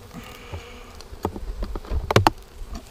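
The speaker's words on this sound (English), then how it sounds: "Oh yeah, there's a lot of bees in there." Faint honey bee buzzing hums from inside a hive in the background, with a few soft taps and knocks close by growing slightly louder toward the end.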